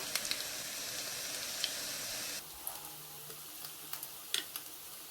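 Pieces of lotus root and minced meat pan-fry in a pan, with a soft, steady sizzle that quietens partway through, dotted with light ticks and scrapes as they are flipped.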